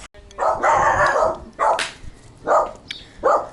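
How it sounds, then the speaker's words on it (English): Dogs fight and bark in the background at an outdoor home cooking spot with a fire pit in Greece, sending out several loud, snarling bursts and sharp barks separated by short pauses. "Dog fight in the background."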